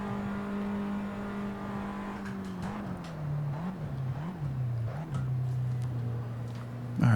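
Race car engine in the video game Assetto Corsa, a steady droning tone that dips and wavers through gear changes and cornering, with faint clicks and a sharp bump at the end.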